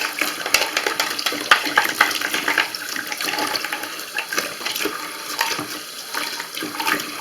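Toilet parts rinsed under running tap water, a continuous close splashing stream with small knocks and handling clicks as the pieces are moved, with no talk.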